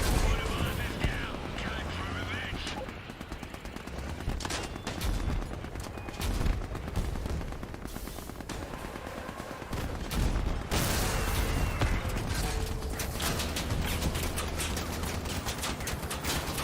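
Machine gun fire in the Crossout vehicle combat game, rapid sustained bursts of automatic shots crackling almost without letup, loud and dense, with heavier booms mixed in and players talking over it.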